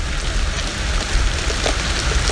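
Rain falls steadily on a lake while fishing, a dense, close hiss of drops on surfaces with no voices.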